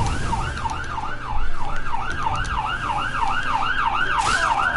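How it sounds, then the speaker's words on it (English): An ambulance siren wails loud and close, rising and falling in a steady repeating cycle over a low traffic hum. "ambulance, so loud"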